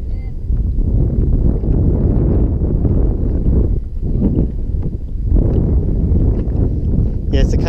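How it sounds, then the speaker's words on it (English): Gusting wind buffets the microphone on a fishing boat, a loud, rumbling low roar that swells and dips throughout, with a voice briefly audible beneath it. "It's a little bit windier today than yesterday"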